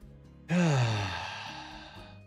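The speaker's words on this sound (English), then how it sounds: "Breathe deeply with me, friends." A single deep exhale, close and breathy, rises suddenly and trails off slowly over about two seconds.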